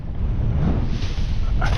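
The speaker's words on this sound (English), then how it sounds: "Oh, it's so windy." Strong wind buffets the microphone outdoors while fishing, a constant loud roar with a faint wash of water underneath.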